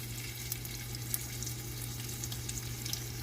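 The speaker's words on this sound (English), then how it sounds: "In go our shrimp. If you don't hear the sizzle, it is not hot enough." Steady, quiet sizzling of shrimp frying in hot bacon grease, with a low hum underneath and occasional soft pops.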